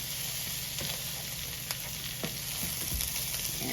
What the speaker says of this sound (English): Now I'm going to stir this around a little bit,